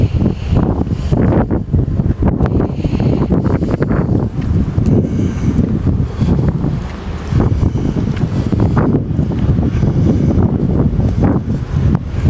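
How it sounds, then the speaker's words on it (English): Strong outdoor wind buffets the microphone throughout, a loud, steady low rumble with gusty surges and no pauses, at a street gathering in New Brunswick. "It's windy."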